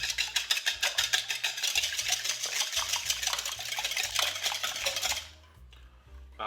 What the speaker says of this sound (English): Wow, that was some chaotic whisking.